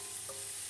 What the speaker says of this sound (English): now the oil is warm enough for us to put our onions in. You hear that nice sizzle?